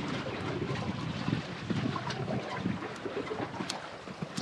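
A fishing boat's engine runs steadily at sea during deep sea fishing, a continuous rumbling wash mixed with wind buffeting the microphone, with no talking.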